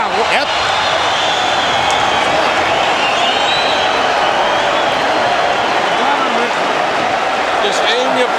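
A boxing arena crowd roaring at the 2002 Gatti vs Ward fight, a steady loud wash of cheering and shouting that holds without a break, with a commentator talking over it.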